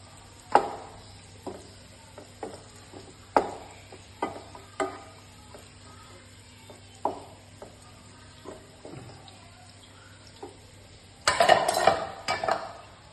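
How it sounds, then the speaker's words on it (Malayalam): Hand-shredded fried meat is mixed into vermicelli biryani, giving sparse, separate clinks of a spoon against the pot at irregular intervals and a short, busier clatter of stirring near the end, with no talking. "എന്നിട്ടത് നല്ലോണം മിക്സ് ചെയ്ത് കൊടുക്കാം"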